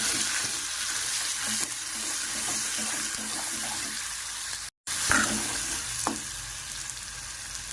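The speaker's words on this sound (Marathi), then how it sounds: "मस्त तडका बसल्या मसाल्याला" Ground masala tempering sizzles and crackles steadily in a hot pan for an egg curry, a continuous frying hiss with occasional stirring scrapes and a brief gap midway.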